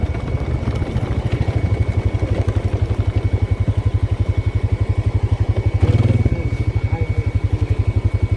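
A small car or motorcycle engine runs steadily and close by in a rapid, even throbbing pulse, with a brief louder clattering swell partway through.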